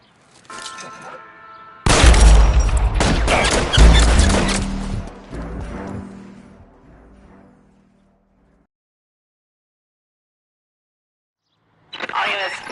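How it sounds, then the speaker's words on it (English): Loud gunfire in the LA Noire video game, a burst of heavy shots and impacts lasting several seconds and then fading out, with faint game voices before and a renewed burst of sound near the end. "Shots fired off streets help"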